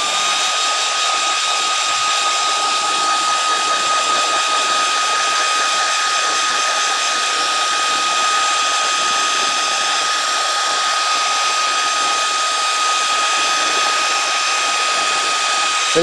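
A hair dryer blows steadily to heat-set freshly brushed Exabit paint on a handmade patchwork perch fishing lure, a continuous loud airy whoosh with a constant whine running the full length, no voices.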